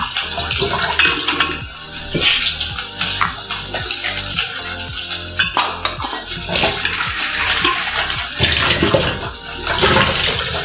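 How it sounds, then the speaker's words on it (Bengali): Water poured into a pot of washed lentils, a steady loud splashing and gurgling with clinks of the pot throughout, no talking. "একটু জল দেবো পরিমাণ মতো, খুব বেশি না"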